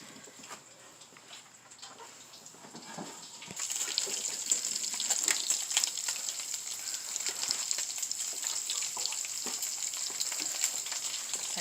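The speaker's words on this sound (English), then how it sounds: "So now I'm gonna ground my Italian sausages" Mild ground Italian sausage frying in a pan, a steady bright sizzle that starts modest and swells louder after a few seconds, crackling continuously and close up with no talking.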